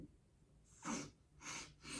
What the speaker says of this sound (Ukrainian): носиком шморгаю